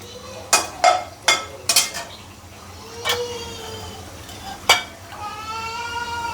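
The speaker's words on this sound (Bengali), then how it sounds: "রসুনটা আমি একটু লাল করে ভেজে নেব" Garlic frying in a pan while being stirred, with several sharp metallic scrapes and clinks of a utensil over a low steady sizzle, scattered irregularly and fairly close.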